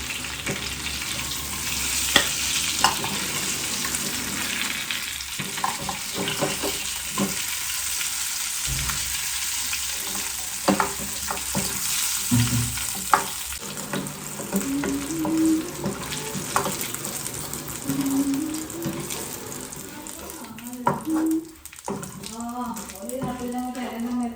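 Food sizzles steadily over a low flame in a pan, a dense hiss with crackles and stirring knocks, while running water and a voice come and go in the background.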